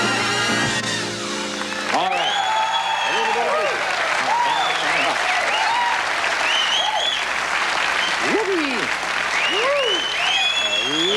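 A studio audience applauds loudly and continuously, dense clapping close up with crowd whoops rising over it, while a voice speaks briefly at the start.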